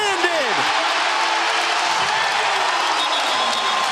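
A basketball arena crowd roars in a sustained, loud wall of cheering and applause during a Kansas State versus Iowa State college game, with a commentator talking over it.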